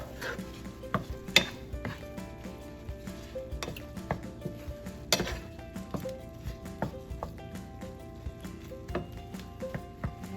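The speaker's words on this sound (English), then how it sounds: "After 5 minutes, stir it." Sautéed shrimp are stirred in a pan, with a quiet background sizzle broken by repeated clacks and scrapes of the utensil against the pan at an irregular pace.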